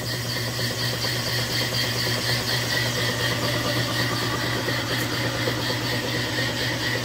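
A boat engine idles steadily while driving a Velvet Drive 71C marine transmission with a 1.91 ratio, engaged in forward. It makes a continuous, even mechanical drone with faint whine and vibration and no pauses or voices.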